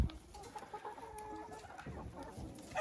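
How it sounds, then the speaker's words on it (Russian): Hens clucking softly and repeatedly close by, low murmuring calls over quiet outdoor ambience, with no talking. "Вот вокруг ходят куры"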